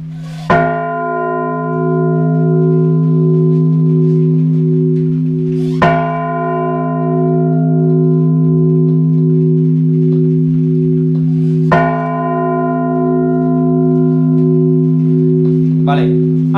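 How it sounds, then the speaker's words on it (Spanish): A church bell at the Parish of Santa Barbara is struck by hand three times at slow, even intervals. Each loud, close strike leaves a long humming resonance. "Con esta campana, tres campanadas y luego tú volteas."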